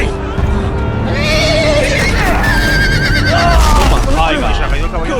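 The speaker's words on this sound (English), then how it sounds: "Se ha caído el caballo." A horse whinnies loudly in a Game of Thrones video game amid clattering game effects, with excited voices talking over the action throughout.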